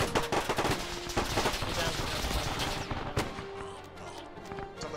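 Dense covering gunfire in a military video game, rapid overlapping automatic bursts and single shots rolling continuously, loud and busy, thinning out toward the end.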